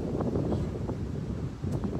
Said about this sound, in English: Since it's super windy